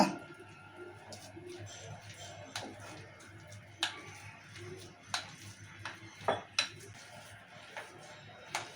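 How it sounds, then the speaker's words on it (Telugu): Melted jaggery syrup being stirred in a pot, with scattered sharp clinks and taps of a spoon against the metal rim over a low steady background hum, close and intermittent, growing a little more frequent toward the end. "ఇలా పాకం వేసుకున్నాం కదా కలుపుకుందాం"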